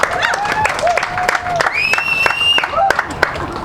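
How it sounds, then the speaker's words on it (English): Staff and guests at an aquatic center employee appreciation party break into applause, with sharp claps, cheers and voices calling out over the crowd. "you should give yourselves a round of applause"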